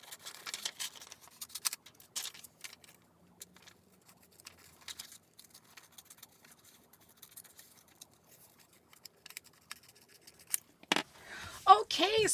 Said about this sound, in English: Not going to cut out everything, just a couple of these outfits.